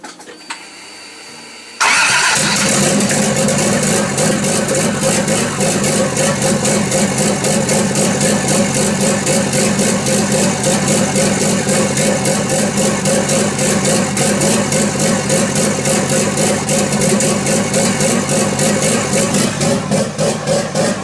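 A Toyota Supra engine cranks and fires after a brief quiet moment, then settles into a loud, steady, close idle that runs unbroken to the end.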